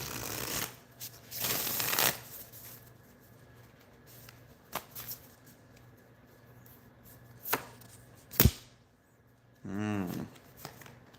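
Tarot cards are shuffled in a few short riffling bursts, close and crisp, separated by quiet gaps and small clicks, with brief speech between them.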